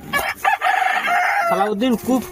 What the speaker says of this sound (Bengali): আর মুরগিগুলো বাইরে দিয়ে এত চিল্লাচ্ছে